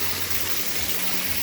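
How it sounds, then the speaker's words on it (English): A natural forest waterfall near Vancouver pours in a steady, dense rushing roar, loud and close, with no talking over it. "Authentic waterfall"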